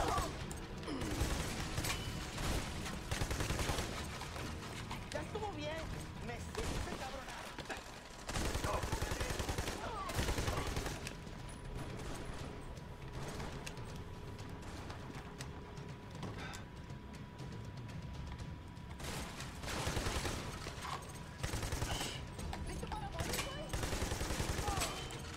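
Gunfire in Army of Two: The Devil's Cartel: bursts of rifle and machine-gun shots come in clusters over a long stretch of combat, separated by quieter gaps, with a player talking at times over the action.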